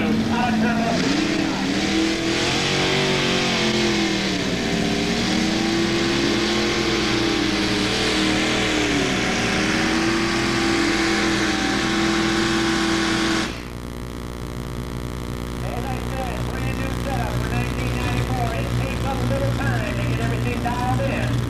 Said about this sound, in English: The front of the Humiliator number 9 signaling that it's ready to go for Wayne Kreider